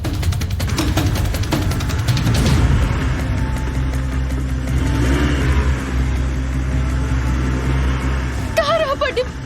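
A car with failed brakes speeds along, its engine revving loudly and continuously under dramatic music and voices, with a whooshing rush partway through and a brief squealing tone near the end.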